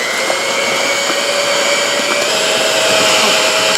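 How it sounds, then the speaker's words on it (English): Electric hand mixer whisking popsicle mixture in a bowl, a steady loud whirring hum held throughout at close range, with no talk over it. "So I'm gonna go ahead and whisk this together."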